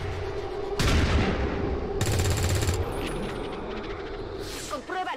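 Gunfire in the turn-based strategy game XCOM 2: a loud burst, then a rapid automatic rattle lasting under a second, with fainter shots and clicks after and talk throughout.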